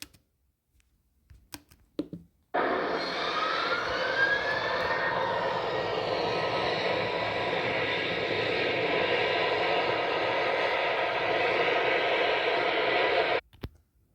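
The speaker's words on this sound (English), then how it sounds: "So you can hear the engines sort of out of sync as they start up" Aircraft engines starting up slightly out of sync, a steady loud broadband roar with a faint rising whine, holding for about eleven seconds before cutting off abruptly, after a few quiet knocks at the start.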